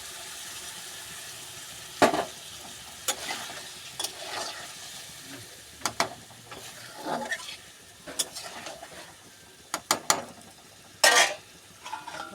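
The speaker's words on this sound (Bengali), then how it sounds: "কমিয়ে কমিয়ে ফুটিয়ে নেবো লোটে মাছটাকে একটু নাড়া দিয়ে নেব" Lote fish (Bombay duck) simmering in a watery curry in a pan while a spoon stirs it, giving soft bubbling with scattered scraping and clinking strokes at irregular intervals, close and fairly quiet with no talking.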